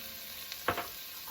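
Curry powder and garam masala hit the pan for a squash and red lentil curry, giving a short, sharp burst of sizzle and scraping over a faint background hiss.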